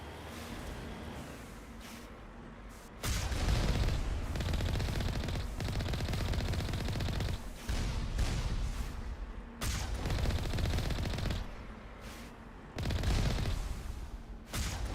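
Video game turret gunfire inside a rogue facility, loud sustained bursts of rapid automatic fire broken by short pauses, dense and close throughout.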